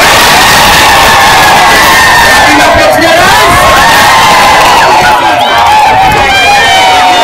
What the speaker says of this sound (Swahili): Wapi makofi ya rais?